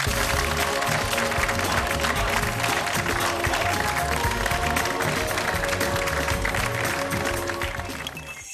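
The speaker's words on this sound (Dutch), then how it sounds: "APPLAUS" Studio audience of a television quiz show applauds at the close of an episode, clapping blended with loud music and fading toward the end.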